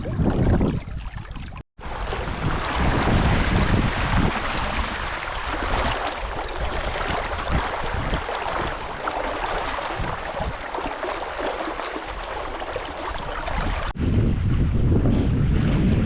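A sailboat broad reaching off the Scottish coast, with loud steady wind rushing across the microphone and water washing along the hull throughout.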